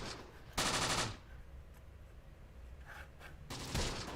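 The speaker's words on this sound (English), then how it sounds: "all of the enemy gunfire is coming from here" Enemy gunfire in the Close Combat video game: two loud bursts of rapid machine-gun fire, close and sharp, separated by quieter scattered shots and battlefield noise.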